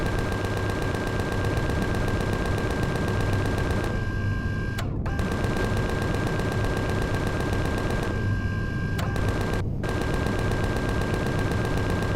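Gunfire in the space survival game Empyrion (Alpha 8.5): a dense, steady barrage of shots runs almost continuously, broken by two brief pauses, loud and close with no talking.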